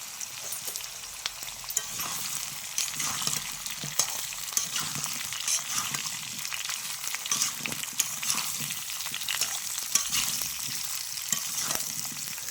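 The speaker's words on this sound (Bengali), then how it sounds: "কচুগুলোও আমি ভালো করে একটু ভেজে নেব" Steady oil sizzle and crackle of taro and potatoes frying in a pan, with occasional stirring scrapes, close and continuous.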